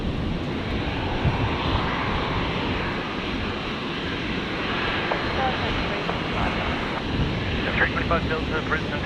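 A fixed-wing airliner takes off from runway 01 Right at Brisbane airport, its loud, steady engine roar spreading broadly and holding constant for several seconds, with radio voices talking over it.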